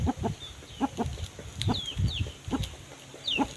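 Several young chickens cluck in short, repeated bursts, with a few higher chirps and peeps mixed in close by.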